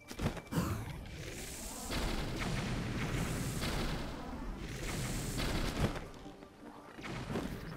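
Bomb explosions in The Legend of Zelda: Breath of the Wild, with several heavy booming blasts and whooshing bursts rolling one after another at moderate loudness, with no voices.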